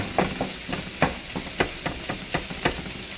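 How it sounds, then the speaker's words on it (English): Meat sautéing with onions in a hot pan, a close continuous sizzle broken by rhythmic scrapes and taps of a utensil stirring, no voices. "I saute all the meat"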